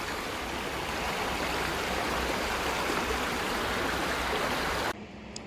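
A river in Armenia full of trash, flowing as a loud, continuous broadband rush of water close by that cuts off abruptly just before the end.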